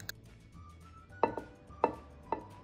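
A knife scores raw flank steak in a crisscross pattern on a cutting board, giving three or four crisp, close taps at a steady rhythm over a quiet kitchen background.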